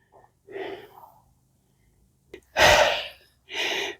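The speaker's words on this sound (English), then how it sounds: "you're going to hear me breathing hard." Heavy, labored breathing from someone at high elevation: a few loud, close breaths, with a softer stretch near the start.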